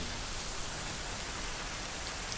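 Heavy rain pours in a dense, steady hiss with no breaks, a constant wash of falling water filling the space at moderate loudness.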